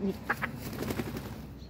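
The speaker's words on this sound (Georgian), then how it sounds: "მამალა." A rooster's brief crowing call rings out nearby, with a short clucking sound over steady background noise.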